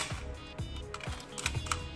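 Shutter of a Minolta SR film camera firing during a shutter-speed test after mirror repair and lubrication: several sharp mechanical clicks and clacks in quick succession, close and crisp, with no talking.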